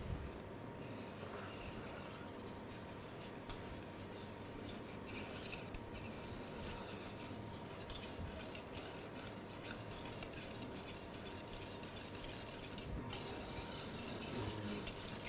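A chocolate glaze mixture is stirred after hot syrup at 111 degrees is poured over it, producing a soft continuous scraping swish of a utensil in a bowl, close and steady, with no talk.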